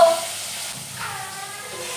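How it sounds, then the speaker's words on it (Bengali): Eggplant slices frying in a pan at home give a soft, even sizzle that stays steady and fairly close for a couple of seconds, with no voices. "বেগুন ভাজছি তোমার জন্য বেগুন ভাজছি"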